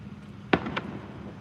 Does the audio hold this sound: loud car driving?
no